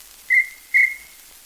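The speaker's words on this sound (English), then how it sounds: "That's the traffic cop's whistle." A traffic cop's whistle on an early 1920s comedy record: two short, shrill blasts, each trailing into a thin sustained tone, clear and alone with no talk over them.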